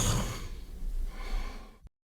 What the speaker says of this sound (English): James fell asleep quickly and is already snoring.